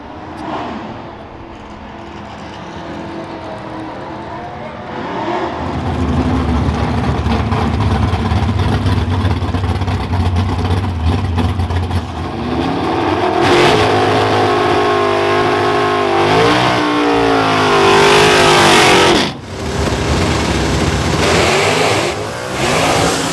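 A 1967 Ford Fairlane race car with a 427 FE V8 and four-speed idles, then revs hard toward 8,100 RPM, roaring through repeated climbs in pitch, loud and close for over twenty seconds with no talk.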